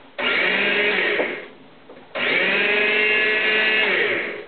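A food processor pulses twice to chop olives, each burst a loud, steady whir lasting just over a second, separated by a short quiet gap.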